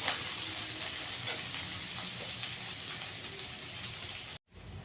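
Onions frying in a pan for an egg curry give a steady, close sizzle and hiss that runs without talk, then cuts out abruptly near the end before briefly returning.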